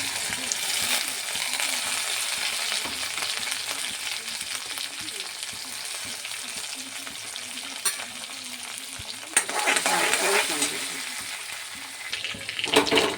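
Garlic, green chili and mustard frying in hot oil in a pan for ridge gourd peel paste give a continuous close sizzle, with spatula stirring and a louder burst of crackling near the end.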